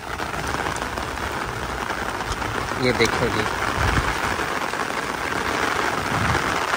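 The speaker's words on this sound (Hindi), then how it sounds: "ये देखें कितनी बारिश हो रही है" Heavy rain pours steadily and loudly throughout, a dense constant wash, with a person speaking briefly over it.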